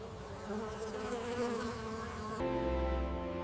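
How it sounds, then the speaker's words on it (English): Bees buzz around blooming grape flower clusters in a vineyard, a close, continuous droning hum that wavers in pitch as they move, with no talking. "Bees pollinating clusters before fruit sets."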